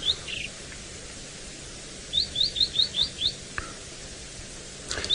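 A white-browed scrub robin sings a quick run of six bright, clear, evenly spaced rising whistles, with a few softer chirps before and after, close and distinct over faint outdoor background noise on an evening safari drive.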